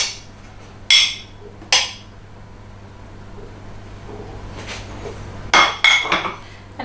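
Butter and icing sugar tipped into a very large mixing bowl for cupcake frosting, giving a few sharp clinks and knocks of bowl and utensil spread apart over several seconds, with a low steady hum beneath.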